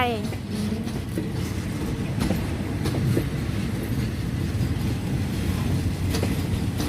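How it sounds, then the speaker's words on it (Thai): A diesel railcar rolls into a platform at Hua Lamphong station in Bangkok, its wheels rumbling and clacking steadily over the rails with brief squeals, close and continuous, while someone talks over it. "แต่ชานชลาที่ห้าเป็นรถดีเซลรางเข้าไป"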